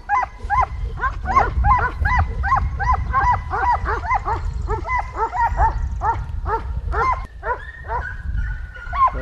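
Several dogs bark incessantly in a rapid, overlapping chorus during a deer hunt, loud and close with a constant low rumble beneath and occasional whimpers among the barks.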